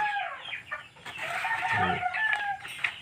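Chickens on a small farm cluck and call close by, with repeated short notes and a brief crowing-like cry midway, loud against a quiet background.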